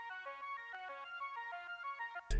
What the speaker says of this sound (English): The first one is the dry aggression pad.